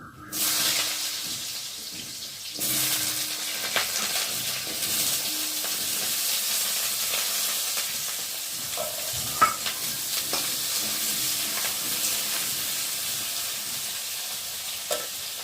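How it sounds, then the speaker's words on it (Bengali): Small diced potatoes fry in hot oil over tempered spices for a vegetarian dish, giving a steady, close sizzle with intermittent scraping and clinking as they are stirred in the pan. "এখন এই যে কেটে রাখা ছোটো ছোটো করে ডুমো ডুমো আলুগুলোকে দিয়ে ভালো করে ভেজে নেব"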